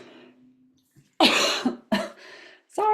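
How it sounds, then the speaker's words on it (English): A loud, close cough bursts out after a quiet moment, followed by a second cough and the start of a third. "Sorry for coughing."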